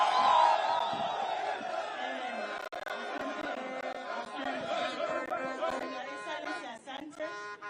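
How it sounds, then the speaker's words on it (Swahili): A large outdoor crowd at a presidential cancer-centre groundbreaking rally in Kisii, Kenya, chatters and cheers with scattered whoops and shouts, loud and continuous throughout, with a voice over a loudspeaker mixed in. "o na mama wetu wa county anaitwa Mama Donya, mpigeni makofi jameni"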